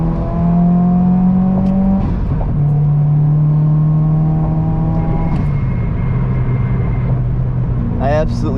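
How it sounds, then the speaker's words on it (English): A modified Subaru WRX downshifts to third gear and accelerates hard, its engine and exhaust droning loudly with rising tones broken by quick shift drops, heard from inside the cabin, with a brief voice at the end. "Downshift to third gear and gun it"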